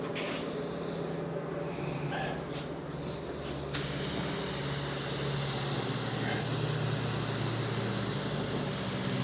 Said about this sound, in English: I'm spraying a little bit slower, but that's okay.